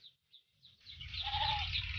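Goats bleat on a farm at the foot of Mount Arayat, a few short faint calls followed by a louder, longer bleat against quiet outdoor ambience.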